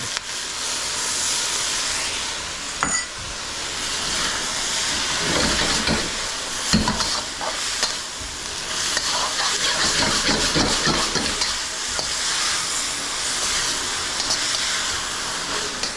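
Sauce mixture hits the hot edges of a wok while cooking mu shu pork, sending up a loud, sustained steamy hiss and sizzle that swells and pulses.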